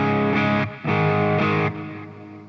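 Electric guitar through an amp with delay and reverb plays sustained distorted chords in two long swells, each cut off sharply, with a ringing echo tail trailing off at the end.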